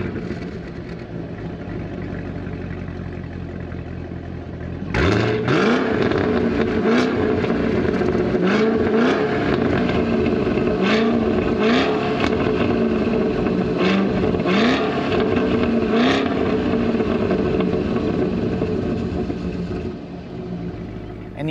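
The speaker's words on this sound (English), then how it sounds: "Cadillac says they wanted the exhaust to scare children." A 2022 Cadillac CT5-V Blackwing with a manual gearbox starts up with a loud bark, then its exhaust is blipped repeatedly, each rev rising and falling in pitch over a steady rumbling idle, close and loud.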